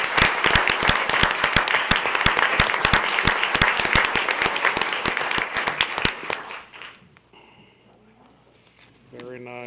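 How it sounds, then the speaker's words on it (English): An audience at a school board meeting applauds the high school golf team and its coach, with dense clapping for about six seconds that thins out and stops, followed by quieter room noise and a brief tonal sound. "Let's give them a round of applause."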